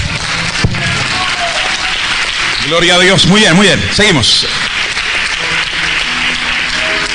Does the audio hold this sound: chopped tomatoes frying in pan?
no